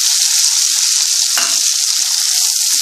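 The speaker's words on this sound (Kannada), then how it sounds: "ಈರುಳ್ಳಿ ಗೋಲ್ಡ್ ಕಲರ್ ಬರೋ ತನಕ ಸ್ವಲ್ಪ ಚೆನ್ನಾಗಿ ಹುರಿಬೇಕು." Onions frying in oil in a pan give a loud, steady, close hiss that runs unbroken throughout, with a faint scrape partway through and no voices.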